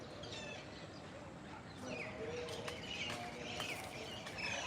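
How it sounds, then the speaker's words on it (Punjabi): Several birds call and chirp outdoors, fairly faint, including a koel, with a dove-like cooing among them over a soft, noisy background. "ਤੇ ਪੰਛੀਆਂ ਦੀਆਂ ਆਵਾਜ਼ਾਂ ਸੁਣੋ ਤੁਸੀਂ"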